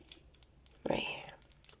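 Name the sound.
clicking the Z button of a Nintendo game controller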